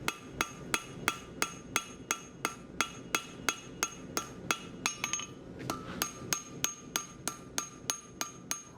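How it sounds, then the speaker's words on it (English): A hammer forges steel into a knife with a long, steady run of ringing metallic blows, close and evenly paced at about two strikes a second, with no talk. "hit that top corner until it comes down, hit that bottom corner until it goes up, and make a point"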